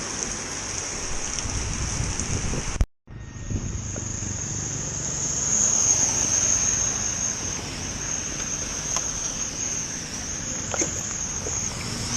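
Steady rain hissing during a stormy motorcycle food-delivery ride, a broad continuous wash with a high shrill insect-like tone on top and a brief dropout early on, no talking.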